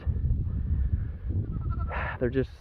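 Goats bleating on a farm near fencing: two short, wavering bleats close by near the end, following low rumbling handling noise and someone talking.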